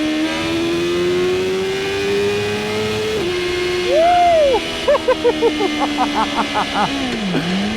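A BMW M 1000 RR motorcycle's inline-four engine revs hard and rises in pitch, then fires a quick series of sharp throttle blips with a falling tone at the end. The sound is close and loud.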